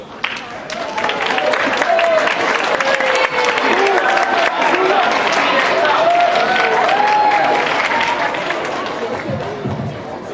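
An audience at a school Chinese New Year celebration claps along, a dense, steady wash of hands with crowd noise and chatter mixed in, holding at a constant level before easing off near the end.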